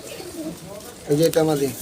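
Pigeons coo at the Saruliya pigeon market, a low throaty cooing that swells near the end over general market murmur and nearby voices.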